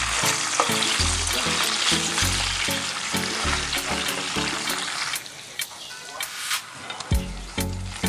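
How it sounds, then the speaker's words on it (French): Oil sizzles and crackles loudly as okra leaves fry in a pan, with intermittent clunks and scraping of stirring. "je vois que toutes les feuilles commencent à bien frire"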